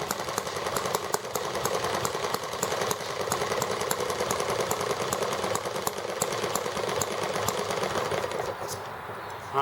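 An ET8 scooter engine runs after a carburetor fix, a loud, continuous buzzing idle close by that holds steady throughout with no talking.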